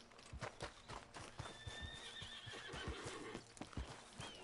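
A horse in the video game Red Dead Redemption 2 clip-clops in a steady walking rhythm and lets out a whinny partway through, the hoofbeats fairly quiet and close.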